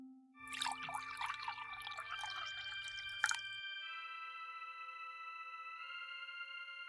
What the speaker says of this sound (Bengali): এবার আমি এই পড়া জল কুয়োর ভিতরে ঢেলে দিচ্ছি।